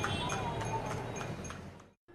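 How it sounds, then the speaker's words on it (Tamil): Hooves of a rented horse-drawn cart clip-clop in a steady, even rhythm along a road in Kanchipuram, close and fairly loud over a busy background. The sound cuts out abruptly just before the end. "வாடகை குதிரை வண்டிகளின் ஓட்ட சத்தம் சாலையில்"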